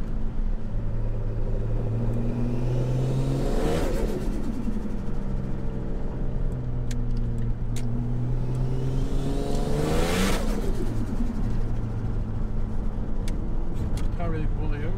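A Ford Falcon AU turbo ute engine revs hard, pitch climbing and dropping as it runs up through the gears, loud and continuous, with a voice talking over it.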